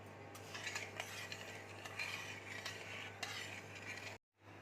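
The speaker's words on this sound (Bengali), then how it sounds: "এবার আমি এই 1 বাটি চিনি জলের মধ্যে দিয়ে দিচ্ছি।" Sugar being stirred into water in a kadai, with steady scraping and swishing of a spoon against the metal pan under a constant low hum, ending in a brief silence.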